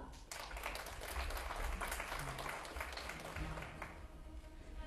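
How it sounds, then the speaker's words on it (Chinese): Spectators at the final of the 2011 National Chinese Eight-Ball Ranking Match in Ordos give a steady round of applause as a player enters, heard distant and fairly faint. "让我们掌声欢迎王鹏入场"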